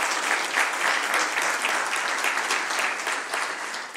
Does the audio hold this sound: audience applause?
yes